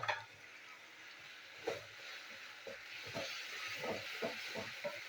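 Onion frying together with ginger-garlic paste in a pan for chicken masala, a steady soft sizzle with intermittent stirring scrapes and clinks, moderately close and fairly quiet.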